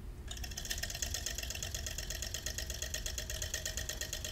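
A hand-spun electric generator in a physics classroom demonstration, turned counterclockwise with reversed leads, gives a steady close whirring drone with a fast regular ripple throughout, no talking.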